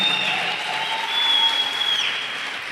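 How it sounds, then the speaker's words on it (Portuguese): A church conference audience applauds steadily and fairly loudly, a continuous wash of clapping with a faint sustained tone running beneath it from start to finish. "uma salva de palmas a Jesus"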